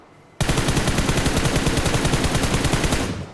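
Rapid automatic gunfire from a mobile battle-royale shooter game, a dense, loud, steady burst of about three seconds that starts abruptly after a moment of quiet and fades slightly at the end.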